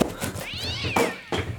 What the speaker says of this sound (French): Oh, attends, j'ai entendu miauler.